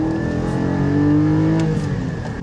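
Porsche Cayman GT4 sports car with its flat-six engine revving loudly and steadily nearby, a sustained rising and falling drone with no talk.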